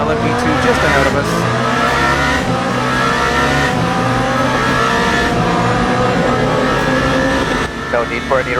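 GT3 and LMP2 race cars roar through the Arnage corner in the Le Mans Ultimate racing game at the 24 Hours of Le Mans, with loud, sustained engine drone and shifting revs under a commentator's voice.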